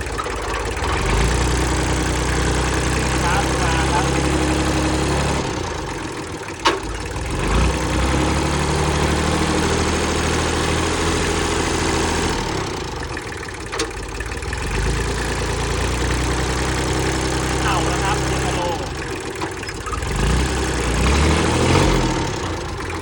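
A Kubota L2000 tractor running in slow gear, its diesel engine chugging steadily and loudly up close for a long stretch, with the pitch and load rising and falling a few times and occasional clanks.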